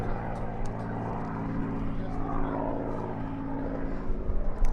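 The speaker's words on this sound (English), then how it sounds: "Yes, there goes Vicky Benson giving us a farewell takeoff." An airplane takes off at the Apple Valley Air Show, its engine a steady, fairly distant drone rising slightly in loudness toward the end.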